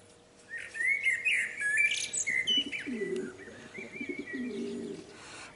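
A common blackbird sings from a house roof, its fluting phrases and chirps carrying clearly over steady outdoor ambience, with soft dove-like cooing lower down in the mix.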